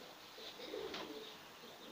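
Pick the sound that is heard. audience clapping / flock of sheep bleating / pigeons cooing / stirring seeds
pigeons cooing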